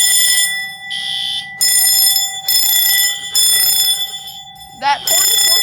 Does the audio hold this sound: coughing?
no